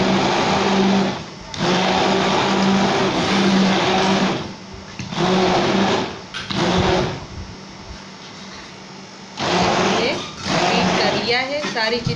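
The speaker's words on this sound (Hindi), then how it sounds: "अब हम इसको अच्छे से ब्लेंड करेंगे।" A blender purees mango with milk and milk powder: a loud, close motor roar that runs in pulses of a second or more, with brief gaps in between.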